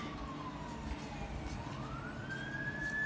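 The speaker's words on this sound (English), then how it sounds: "Apologize for the sirens" An emergency vehicle siren wails steadily on a rainy day in New Jersey, its pitch sliding down and then rising again over constant background rumble, fairly close and continuous throughout.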